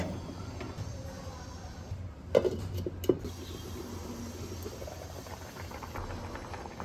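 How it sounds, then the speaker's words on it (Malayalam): King fish curry simmering in a clay pot, with a soft, steady bubbling and two sharp clicks partway through, close by and with no voices. "മീനെല്ലാം ആഡ് ചെയ്ത് തിള വരുമ്പോൾ നമുക്ക് മൂടി വെച്ച് വേവിച്ചെടുക്കാം"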